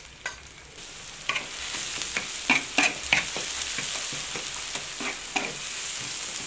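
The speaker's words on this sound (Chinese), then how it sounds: "我们现在先把辣椒炒一下，" Chili peppers stir-fry in oil that is not yet very hot, a steady soft sizzle broken by repeated sharp scrapes and clacks of the spatula against the wok.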